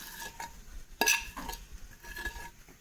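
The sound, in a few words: stirring mashed bananas into pan for snack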